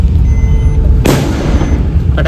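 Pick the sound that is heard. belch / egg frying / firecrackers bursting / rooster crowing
firecrackers bursting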